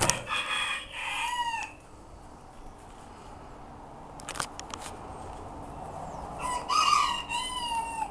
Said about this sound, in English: My Seramas are making noise because a lot of the crows are coming by bothering us.